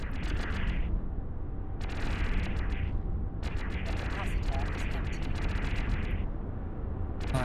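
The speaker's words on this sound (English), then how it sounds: "My ship's still firing even though I'm not actually firing." Repeated rhythmic weapon fire from a spaceship in EVE Online, sharp crackling volleys in regular bursts over a steady rumbling background.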